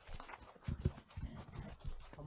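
Horse walking on a mountain trail near Pahalgam, hooves clopping in a steady irregular pattern close by, faint and mixed with background noise and light talk.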